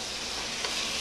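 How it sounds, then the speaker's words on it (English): Meat browns over high heat in a stew pot with a steady, soft hiss of sizzling and a faint crackle partway through, heard alone at low volume. "over this heat we want to brown our meat"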